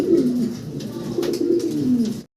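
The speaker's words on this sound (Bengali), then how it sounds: "আর এই সিঙ্গেল 2 পিস হচ্ছে নর কবুতর" Pigeons coo at an exhibition, including large male birds, in low throaty repeated cooing that rises and falls, close and fairly loud, with no talking.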